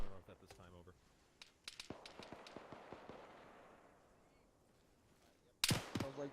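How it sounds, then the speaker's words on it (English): Gunfire crackles in the distance in a military shooter game, a scatter of sharp cracks and pops with a louder close burst near the end, under faint voice chatter. "Sounds like fire to the east as well."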